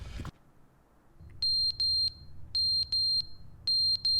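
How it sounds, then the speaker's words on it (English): Smoke alarm low-battery chirp in The Stanley Parable video game, sharp, loud electronic beeps in quick pairs and triplets repeating over a quiet hum, with nobody speaking. "Someone change the bloody smoke alarm!"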